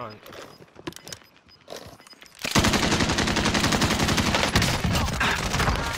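Rapid automatic gunfire from Call of Duty: Modern Warfare bursts in loud and sustained after a quieter opening of faint game sounds, with voices talking over the action.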